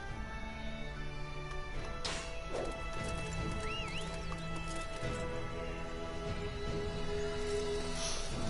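A horse gallops with clip-clopping hooves and gives a neigh in the Dynasty Warriors 9 video game, set among busy, dense game sound effects with sharp crashes throughout.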